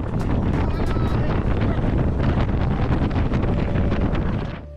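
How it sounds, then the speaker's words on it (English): Loud, steady wind buffeting the microphone on a fjord cruise speedboat, a continuous roar with engine and water rumble underneath that holds for nearly five seconds before easing off. "depending on where you stand, it can get really windy on these speedboats"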